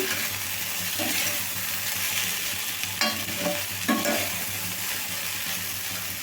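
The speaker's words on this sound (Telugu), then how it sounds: "ఇంకా వేగాలి చూడండి ఫ్రై అనేది ఎంత బాగా వేగింది బెండకాయని" Sliced okra fries in an open pan after being cooked under a lid, giving a dense continuous sizzle close up, with a few brief scraping stirs near the middle.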